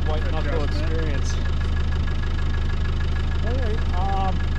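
A 2013 Jeep Wrangler with a new engine idles nearby in a steady, even low rumble that holds throughout, with a few faint voices over it.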